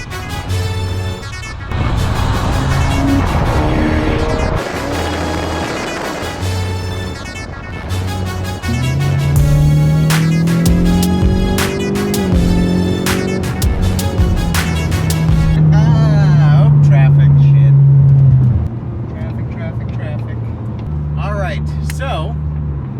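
A Mustang EcoBoost engine hums and revs from inside the cabin on lowering springs, rising and falling through gear changes, with someone talking over it.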